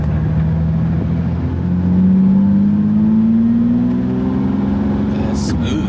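A Lamborghini Diablo VT, back on the road after 14 dormant years, drives along with a mid-pitched engine drone that climbs steadily as it accelerates. Voices can be heard inside the car.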